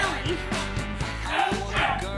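An English Bulldog gives a run of short, close barks and yips with whimpering tones, closely spaced and fairly loud.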